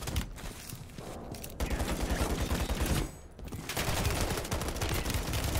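Rapid, continuous automatic turret fire in the Modern Warfare 3 campaign finale, dense and loud bursts with a short lull in the middle.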